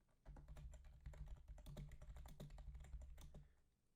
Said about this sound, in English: sorry if you hear my keyboard in the background.